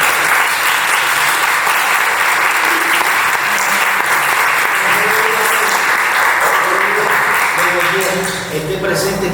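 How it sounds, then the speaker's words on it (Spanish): Sustained audience applause for a Cuban poet at a university humanities faculty anniversary event, dense and loud clapping from a crowd filling the room, with voices talking over it near the end. "Un aplauso para ustedes."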